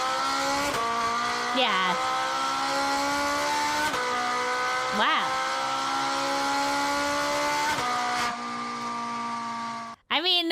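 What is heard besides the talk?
Italian flat-plane V8 engine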